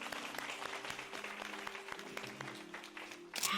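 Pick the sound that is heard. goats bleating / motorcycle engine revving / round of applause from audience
round of applause from audience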